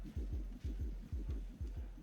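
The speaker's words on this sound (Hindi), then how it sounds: "तुम्हारी धड़कनें तेज हैं।" A fast heartbeat thumps in close, muffled, low pulses, about two beats per second in a steady rhythm over a faint hum.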